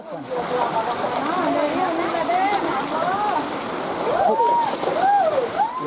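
Steady rain pours down over the town of Bukit Tinggi in West Sumatra, a dense hiss of drops hitting surfaces throughout, with a voice talking over it.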